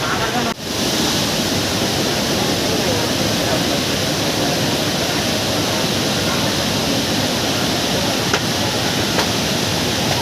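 Jatmai waterfall, swollen by rain, roars with a heavy, constant rush of water, loud and close, a dense unbroken wash of noise filling the whole stretch.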